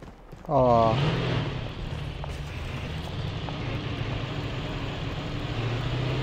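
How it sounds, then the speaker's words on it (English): A helicopter in the mobile shooter COD Mobile gives a steady low rotor drone after a short rising whine, holding at moderate level throughout. "Yeah, that's the chopper"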